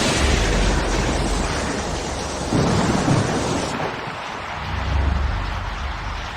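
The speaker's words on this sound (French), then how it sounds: "Il pleut." Steady rain pours down in a dense, loud hiss with low rumbling swells, continuous and unbroken, on an airport apron as an aircraft waits for pushback.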